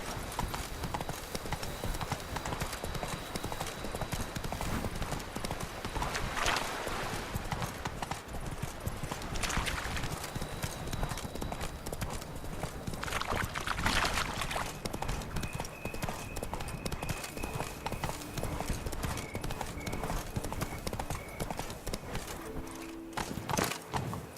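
Roach the horse galloping in The Witcher 3: Wild Hunt, a steady rhythmic clip-clop of hooves running on and on, moderately loud, with brief rushing surges along the way.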